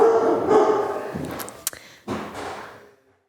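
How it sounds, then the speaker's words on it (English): Dogs bark nearby in a few loud, sharp bursts separated by short pauses, the clearest yelp coming near the middle. No one speaks. "Sorry, there's dogs."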